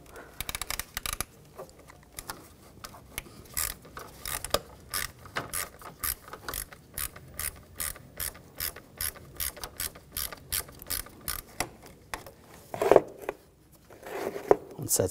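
A ratchet fitted with a T30 socket clicks rapidly in steady bursts while backing a screw out of a 2013-2019 Ford Escape, close and crisp, with a few louder knocks near the end.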